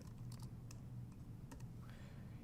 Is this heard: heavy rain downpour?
no